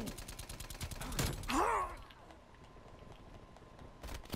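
Rapid bursts of Milano SMG gunfire in the video game Call of Duty: Cold War, fairly quiet and mixed with other game sounds, fading out after the first couple of seconds before a short return at the end.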